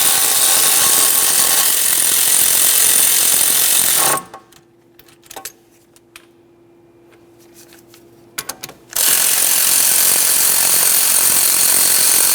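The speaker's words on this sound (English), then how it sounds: "Snug them up. Torque those to 77 foot-pounds." Power tool, likely an impact wrench, tightening the brake caliper bracket bolts on a Toyota Sienna, loud continuous rattling bursts before and after a quieter pause with a few clicks, close up with no speech.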